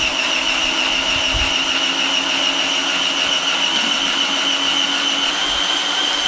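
A Wagner W950 Flexio airless paint sprayer runs on a water rinse, its pump giving a steady, close whining hiss with a high tonal edge that holds unbroken throughout, with no talking.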